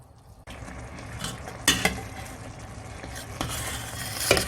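Blackberry jam stirred in a pot on a stove: a soft, bubbling simmer with periodic scraping strokes of a spoon against the pot, close and quiet, no voices.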